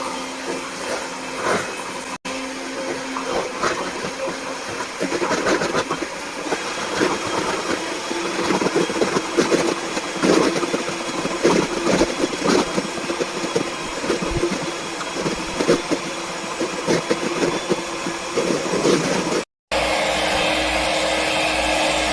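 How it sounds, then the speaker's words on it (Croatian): An electric mixer whips a large batch of eggs and sugar, a loud continuous motor whine with beater rattle that holds steady for about twenty seconds, briefly cuts out, then resumes. "Kada smo umutili ovako jaja i šećer"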